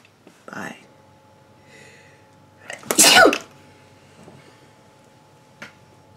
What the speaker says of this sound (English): I felt that sneeze long before it exited my body.